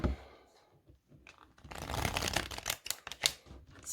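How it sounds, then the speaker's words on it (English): New tarot oracle cards are shuffled close up: a sharp burst of riffling, rapid crisp flutters and slaps that follow a quieter rustle, with no talking over them. "New cards when you're shuffling them."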